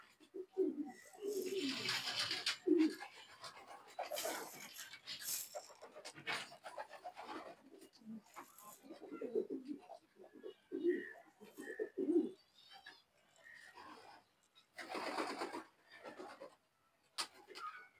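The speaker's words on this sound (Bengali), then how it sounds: "এইখানে প্রায় 42টার মতো কবুতর আছে এখানে নর।" About forty-two male racing pigeons in a loft coo in repeated throaty bursts, with overlapping calls and wing flutters close by throughout and some faint rustling between them.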